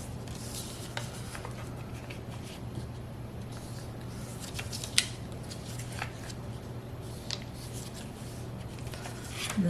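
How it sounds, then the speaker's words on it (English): Paper notecard sections folded by hand for small 3 x 3 notecards and envelopes, giving soft steady rustling and crisp creasing scrapes, close and quiet, with a faint constant hum beneath and no talking. "I'm going to fold in each little section. Just work my way around."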